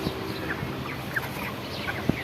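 Farm chickens kept for sale give faint, scattered clucks and short calls at a distance over a low, constant background hum, with no talking.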